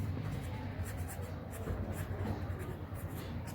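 A pen scratches steadily across paper, drawing standing, sleeping and slanting line patterns for a young child learning to write, a continuous close rasping with no talk.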